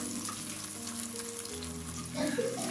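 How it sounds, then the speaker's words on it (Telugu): Beaten eggs fry in a hot pan for an egg pickle, giving a steady, moderate sizzle with crackling and a faint hum underneath, growing busier near the end. "ఈ గుడ్లు కూడా ఒక 2 నిమిషాల పాటు అలా వేయించుకొని రెండో వైపు తిప్పుకొని ఫ్రై చేసుకోవాలి"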